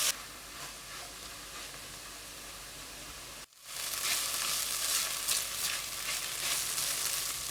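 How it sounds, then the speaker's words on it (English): Onions frying gently over low heat for a French cassoulet, a soft steady sizzle that swells louder after a brief break midway, with no voices. "For onions, remember always fry with low heat until they are soft and transparent."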